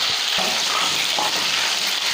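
Mushroom kebab pieces coated in batter frying in hot oil, a steady close sizzle with scattered crackles and pops from water hitting the oil, continuous throughout with no talking.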